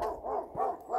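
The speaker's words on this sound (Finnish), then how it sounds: "Ja tätä on ainakin 2 koiraa räksyttämässä minulle." At least two dogs bark on a sunny late-winter day in Nurmijärvi, Finland, letting out a rhythmic series of about four yappy barks at moderate distance.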